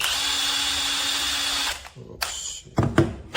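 A SEYVUM 1/2-inch cordless impact wrench runs in one steady whir for nearly two seconds, then stops. A few short clatters and handling knocks follow close by.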